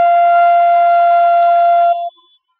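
Flute sounding a single sustained F, a clear steady tone held for about two seconds close up before cutting off.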